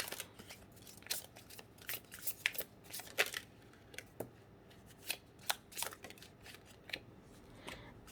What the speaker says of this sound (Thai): ก็ การสับไพ่นะคะ ก็แอบลื่นนิดนึงนะคะ แล้วก็มีการกระโดดกันของไพ่แบบ เยอะๆนิดนึงนะคะ